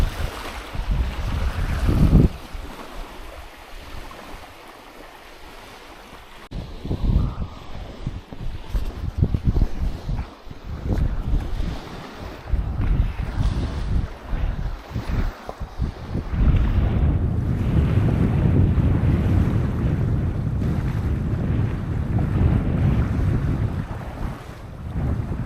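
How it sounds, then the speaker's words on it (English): Boat cruising across the water at French Bay in West Auckland on a fine day, heavy wind buffeting the microphone over a steady rumbling hull and engine drone, rising louder and more continuous toward the end with no talk. "So I'm cruising out on their boat."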